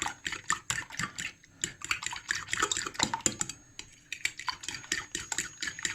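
Eggs are whisked briskly with salt and spices, the utensil clattering against the bowl in a fast, rhythmic stream of close clicks with brief pauses, and no one speaks.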